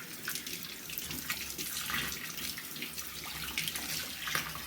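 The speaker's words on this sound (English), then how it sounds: "Then when rinsing, you open a running water." A tap runs steadily while fish are rinsed under it, a constant close hiss of splashing water with faint drips and no talking.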